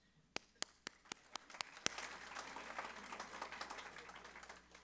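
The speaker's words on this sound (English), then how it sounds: "Applause during announcements." Church congregation applauding during Sunday service announcements, a few sharp isolated claps at first swelling into a steady, moderately loud wash of clapping in a large room.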